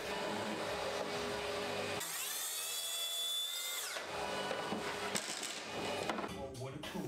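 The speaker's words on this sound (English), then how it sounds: "I used the track saw to cut that out." Track saw cutting through plywood in a home workshop, a loud steady whining cut with a brief shift in pitch midway, then rattling and clattering as the blade winds down.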